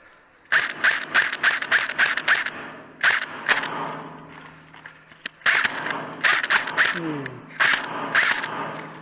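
Rapid bursts of gunfire crackle from a shooting game, clustering into quick volleys separated by short pauses. The shots are close, sharp and clicky, with brief voices in between.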